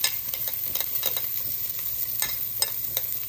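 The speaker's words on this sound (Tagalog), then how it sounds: "Gigisa muna natin yung bawang." Garlic sautéing in a pan, close up: continuous oil sizzle broken by repeated light scrapes and taps of a spatula stirring, steady and fairly loud with no voices.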